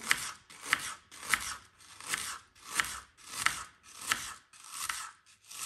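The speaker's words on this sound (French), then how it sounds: "je viens ici couper des lamelles d'oignon" A knife slices an onion into strips on a board, about nine crisp, evenly spaced cuts close by with a steady rhythm.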